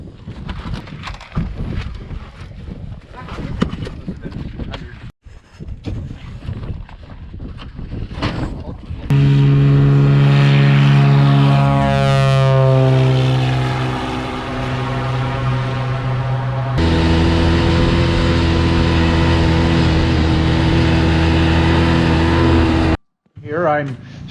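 A snowmobile hauling gas across a frozen lake in Alaska roars loud and close with a droning engine whine that shifts pitch as it speeds up, after a rougher, choppier stretch of engine noise and wind.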